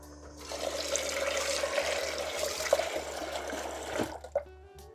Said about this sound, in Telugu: పప్పుని 1-2 సార్లు కందిపప్పుని కడుక్కొని